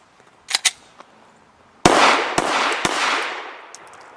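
Sharp, loud gunshots from a Full Conceal M3D folding pistol fed with Glock magazines, a couple of quick reports early then a burst of several rapid shots with ringing echo outdoors, no talk.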